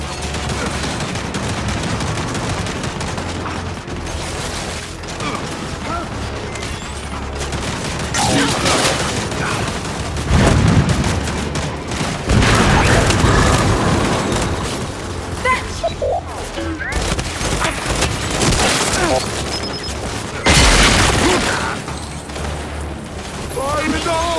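Turret gunfire and explosions in the video game Gears 5, a dense, loud barrage of rapid shots and heavy booms that keeps going without a break, with voices shouting over the din.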